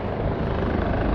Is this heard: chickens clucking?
no